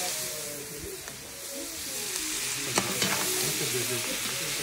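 Onion is thrown into a hot frying pan while cooking Réunion-style chicken, giving a steady close sizzle and hiss with a few light clinks and stirring scrapes, and no talk.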